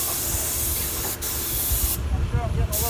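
Spray gun laying primer on the undercarriage of a 1956 Willys Jeep on a hoist, a loud continuous hiss broken by short pauses, with a voice talking over it.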